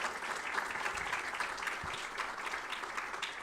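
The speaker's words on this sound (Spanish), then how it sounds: "brindemos un fuerte aplauso y una fuerte bienvenida a nuestra ministra de Trabajo" A university audience applauds to welcome the Minister of Labour at a forum. Steady, even clapping from many hands fills the room at a moderate, slightly distant level, with no talk on top.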